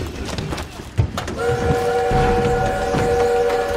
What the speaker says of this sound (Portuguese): Temos que parar esse trem!